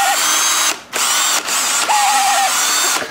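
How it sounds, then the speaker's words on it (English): A hammer drill whines loudly and close up, running in bursts with brief pauses between pulls of the trigger. "That's a hammer drill. That thing will whine and scream long after I'm dead."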